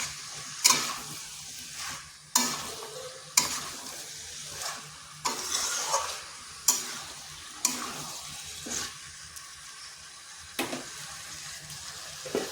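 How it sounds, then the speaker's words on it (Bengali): Chicken and bottle gourd are stirred together in a pan without added water: a quiet, low sizzle is broken by regular, sharp scraping strokes of a spoon roughly every second or so, close by, with no voices. "এইভাবে মাংসর সাথে ভালো করে লাউটাকে মিশিয়ে নিচ্ছি"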